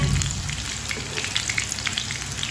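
Egg and oat kebabs fry in a pan with a steady close sizzle and crackle throughout, low hum underneath and no talking.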